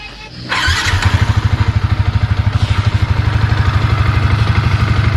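A Yamaha Vixion motorcycle engine starts up after repair and settles into a loud, rapid, steady idle with a rhythmic chugging pulse, close by.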